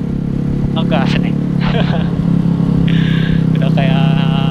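A Suzuki Shogun SP 125 motorcycle engine hums steadily while riding in Garut, under continuous close talking from the rider.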